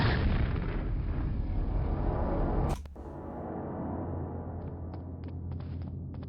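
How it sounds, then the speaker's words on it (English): Screens being shot out in the Quake map pack Brutalist Jam 3: one loud, abrupt blast cuts off a dense roar, then faint, brief ticks and clicks follow in a quieter room. "Shoot out the screens."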